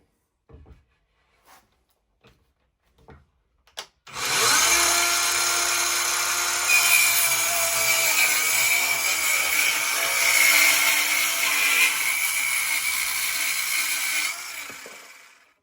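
A BAUER 20V cordless 4-1/2 in. circular saw with a 36-tooth blade cuts a thick piece of wood. It gives a loud, sustained, close whine for about ten seconds and strains slightly under load, after a few quiet knocks.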